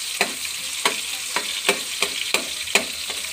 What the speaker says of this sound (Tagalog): Brown na ang ating bawang. Ayan. Sinunod naman ni Papa guys ang sibuyas.